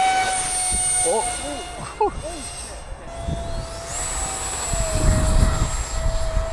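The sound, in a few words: RC jet plane flying overhead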